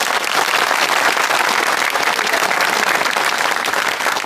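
A comedy show audience applauds the actors with steady, dense clapping that holds at full strength throughout, with no talk over it.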